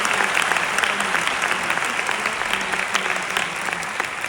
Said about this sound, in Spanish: le damos un aplauso al doctor Jimmy Goodman